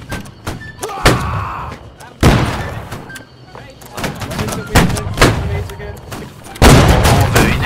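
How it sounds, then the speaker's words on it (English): In the Napoleonic-era multiplayer game Holdfast, cannons fire cannonballs as heavy, close booms and thuds that recur irregularly amid battle noise, with voices talking over much of it. "Keep firing that cannonball"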